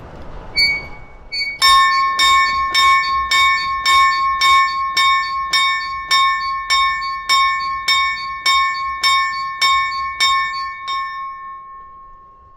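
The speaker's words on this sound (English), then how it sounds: "This is the school bell that we remember from the 1950s when we were at school here in Forbes" A 1950s school hand bell from Forbes rings in a steady, even rhythm, about a dozen bright metallic clangs with lingering ring between strikes, loud and close.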